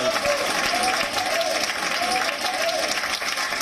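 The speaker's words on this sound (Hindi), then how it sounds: "अजय अंजाम का एक बार फिर उन्हीं तालियों के साथ स्वागत करें" Loud, dense audience applause at a Hindi poetry contest on the 2019 Lok Sabha elections, steady throughout with crowd noise mixed in.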